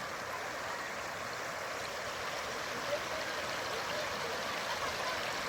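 Floodwater about two feet deep rushes across a paved village road in Punjab in a steady, loud wash that holds constant throughout, with no voices.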